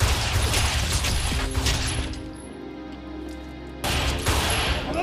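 Gunfire in a yakuza film scene: bursts of rapid shots crackle loudly at the start, fade to a quieter tonal stretch, then the volley returns at the end.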